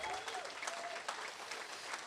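Audience at a blockchain event closing ceremony in Cape Town applauding volunteers, with a steady, moderately quiet wash of many hands clapping and a faint voice briefly audible at the start.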